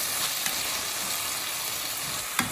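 Risotto rice simmering and being stirred in a pan gives a steady, dense sizzling hiss throughout, with a couple of soft spoon scrapes.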